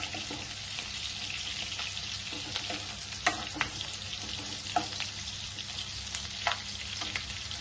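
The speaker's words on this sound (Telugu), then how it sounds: "పచ్చిమిరపకాయలు ఎగుతుంది కదండి" Green chillies fry in hot oil in a pan, giving a steady close sizzle with a few sharper pops and scrapes from stirring, and no voices.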